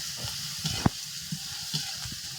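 Potato chips frying in oil in a home kitchen and being stirred, a steady soft sizzle with occasional light clicks and scrapes of a spatula, no talking.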